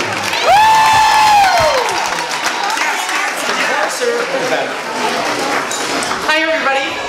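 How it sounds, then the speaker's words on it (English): Wedding guests applaud the mother of the bride at a reception, a dense crowd of clapping with cheers and whoops, loud and sustained, with voices mixed in throughout. "How about a very nice round of applause, everybody?"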